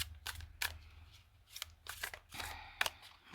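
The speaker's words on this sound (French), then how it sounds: "on va encore mettre une carte du tarot de l'imaginaire" Tarot cards of the Tarot de l'imaginaire being shuffled and drawn, with a few soft, brief papery flicks and snaps spread apart over a quiet background hum.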